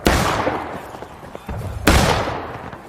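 Musket volleys in the Civil War game War of Rights, with a loud broadband crack at the start and another sharp report near the end, each trailing into a rumbling echo, and scattered distant shots filling the gap.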